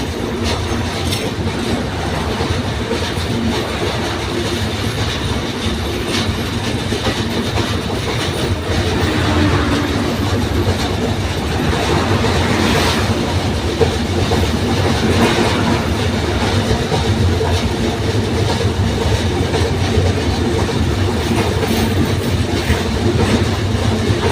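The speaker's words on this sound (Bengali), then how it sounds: "আমরা এখন আছি বঙ্গবন্ধু সেতু ট্রেনে যাচ্ছি" A passenger train crosses the Bangabandhu (Jamuna) rail bridge, heard from on board as a loud, steady rumble with continuous clickety-clack of wheels on the rails and an occasional faint squeal throughout.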